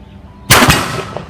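A single sharp, loud pistol shot from a CZ 97B cracks out at a shooting range after a quiet moment, followed by a short ringing decay.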